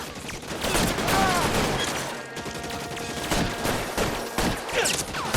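Heavy gunfire in L.A. Noire, dense overlapping shots and volleys crackling continuously at close range throughout the brief shootout.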